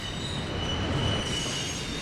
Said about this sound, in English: The first train is a BNSF double stack.